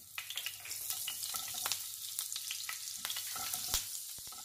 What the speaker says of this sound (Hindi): ऑयल के संग ही हम बटर डालेंगे।